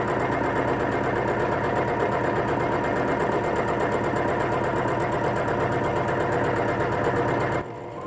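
A sewing machine runs continuously while hemming a bandana, giving a loud, steady mechanical whir and rapid needle chatter close by, then cuts off abruptly near the end.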